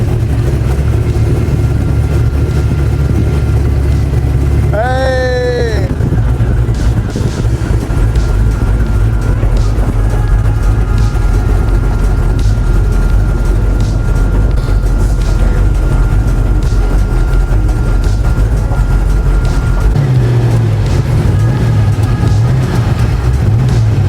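A reborn 1970 Porsche 917 race car engine drones loud and steady as it climbs a steep, uneven driveway, with a brief whistling squeal near the start and a deeper surge toward the end.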